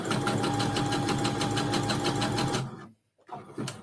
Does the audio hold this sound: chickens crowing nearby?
no